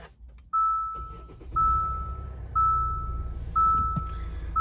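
A Kia Sorento's engine runs after repair with a low, smooth idle rumble, while a repeated electronic beep sounds at regular one-second intervals over it.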